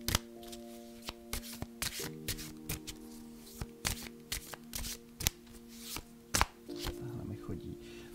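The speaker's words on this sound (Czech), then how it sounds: "možná mám dneska jenom vytáhat karty" Oracle cards are shuffled by hand in repeated riffles and snaps, sharp papery bursts at an uneven rhythm over a faint steady tone, close and moderately loud with no talking.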